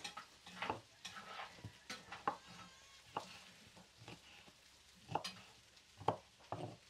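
Onion and chili cooking in a pan, stirred now and then so a spoon scrapes and taps against the pan over a faint, quiet sizzle, with sharper strokes at irregular moments.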